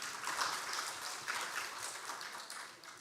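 Audience applause at a formal opening ceremony for an Indonesian culture conference, a steady wash of many hands clapping, moderately distant and fairly quiet, holding evenly for a few seconds.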